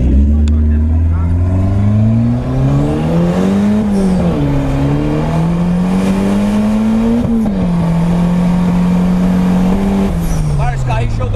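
Turbocharged car engine accelerating under 2 kg of boost, a loud close roar that climbs in pitch through repeated gear pulls with brief drops between them, while people talk over it.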